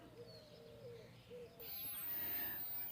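Birds sing outdoors in a garden near a bird bath, faint scattered calls and chirps at a distance over soft background noise, with a broader rush of sound rising partway through.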